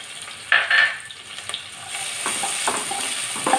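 Onion, chili, curry leaves and crushed ginger-garlic frying in oil and being stirred, with sharp sizzling bursts as ingredients land, then a steady crackle with intermittent spoon scrapes.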